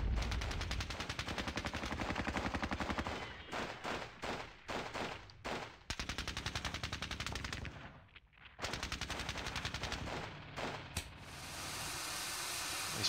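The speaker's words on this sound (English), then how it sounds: "Lots of firing here." Rapid machine-gun bursts and scattered rifle shots ring out in the Squad Battles Red Victory war game at Ponyri. They come loud and close in repeated bursts with brief gaps, hiss and rumble between volleys, and no voices.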